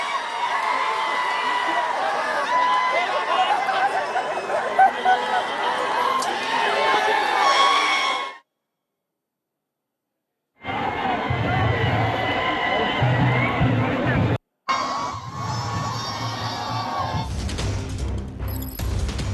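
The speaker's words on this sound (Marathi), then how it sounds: "विजयी उमेदवारांचा हा जल्लोष सुद्धा आपण टेलिव्हिजन स्क्रीनवरती पाहतोय" A crowd celebrating winning candidates after a Maharashtra municipal election, loud cheering, shouting and babble cut by a sudden gap of silence, then more noisy celebration with people talking.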